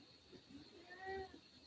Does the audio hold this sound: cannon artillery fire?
no